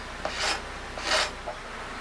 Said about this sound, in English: Just gonna get the scraper and scrape off.